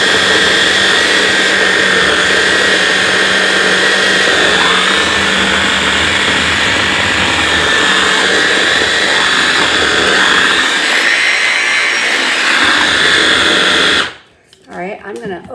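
A blender whirs steadily as it mixes peanut butter powder with cream into a low-fat peanut butter, a loud continuous motor drone that runs almost the whole time, then cuts off abruptly near the end.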